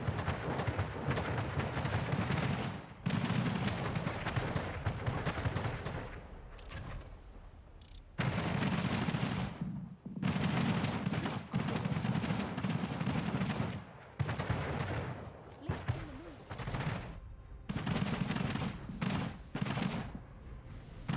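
Ship cannons firing in Anno 1800 during a naval battle, heavy booming bursts repeating in rapid volleys across the whole stretch, loud and continuous with brief gaps.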